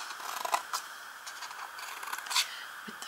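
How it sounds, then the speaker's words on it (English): Scissors snip triangles out of scored paper card, giving a series of close, crisp cutting and scraping sounds at an irregular pace with no talk. "You just cut out the little triangles."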